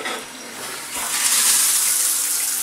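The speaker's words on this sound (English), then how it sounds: "I'm going to turn on the shower head and see if any of it washes down" A shower head turns on and sprays water into a bathtub, starting as a softer splash and swelling after about a second into a loud, steady hissing spray, close by with no talking.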